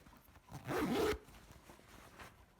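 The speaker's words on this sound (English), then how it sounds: "if I close my zipper" An invisible zipper sewn into fabric is pulled closed in one quick, close zip lasting about half a second, with quiet handling noise before and after.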